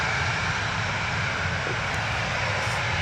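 Steady, loud airliner jet engine roar spooling up on the runway at Manchester Airport, with a broad hiss and low rumble, holding constant throughout without any voices.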